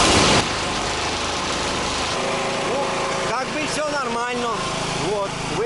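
A petrol generator engine is started and settles into a steady running drone, with a voice speaking over the noise partway through.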